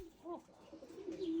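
Homing pigeons coo softly during recall training, a low warbling call rising and falling over a couple of seconds, fairly faint, with light background noise.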